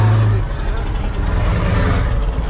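Heavy Scania 6x6 truck with a V8 engine idling and running off-road, giving a deep steady low rumble that fills the whole clip, loud and close.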